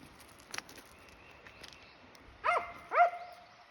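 Dogs playing at a creek give a couple of short, fairly close barks, with a faint yip earlier, over quiet outdoor ambience.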